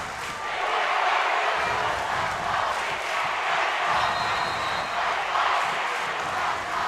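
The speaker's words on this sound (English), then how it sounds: "And listen to this crowd." A packed high school basketball playoff crowd roaring and cheering in a gym, a loud continuous wash of voices that holds steady throughout.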